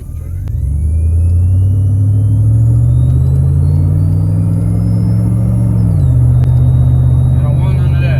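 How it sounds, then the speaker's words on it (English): A truck engine's supercharger whine rises steadily in pitch over a deep rumbling engine drone, then drops sharply near the end, loud and continuous inside the cab. "I ain't ready for this supercharger."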